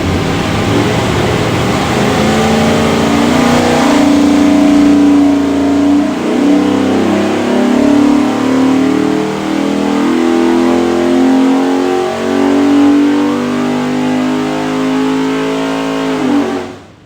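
A Holley Hi-Ram 427ci Windsor V8 roars loud and close on a dyno, climbing steadily in pitch through a long sustained pull before cutting off at the end.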